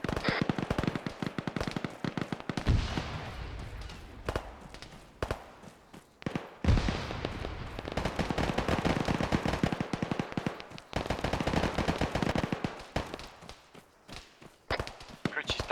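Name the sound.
grenade explosion and gunfire in a video game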